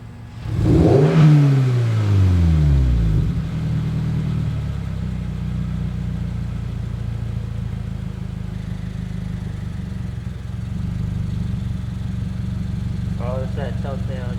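A 2022 Subaru BRZ fitted with a Grip catback exhaust revs hard, its engine note sweeping up and down loudly, then settles into a steady idle drone while people talk quietly.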